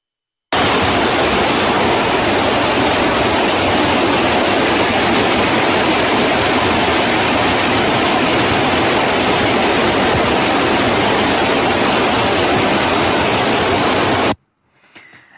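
Floodwater roars through flooded streets in Lviv during a severe storm, with cars afloat, a loud, steady rushing wash that runs unbroken for about fourteen seconds before cutting off abruptly.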